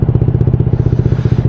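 A motorcycle engine idles steadily while warming up before a ride, its close, loud, even putter thumping in a quick regular rhythm with no voices over it.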